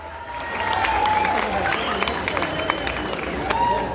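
A rodeo crowd applauds and cheers at a jaripeo bull-riding event during a 2022 patronal fiesta in Xuchapa. The broad, steady wash of clapping and crowd noise lasts throughout, with voices and tonal sounds mixed in.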